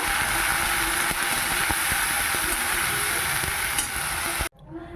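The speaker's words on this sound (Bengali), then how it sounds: "দিয়ে দিলাম মশলা মশলা ভালো করে কষে নেব" Spices being stir-fried with fried onions in a pan, a loud, dense, continuous sizzle with faint scraping, cutting off abruptly near the end.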